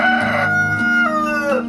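A brooding hen gives a loud, close, harmonically rich drawn-out call that rises and falls, sounding steady and continuous with no pauses over its short span.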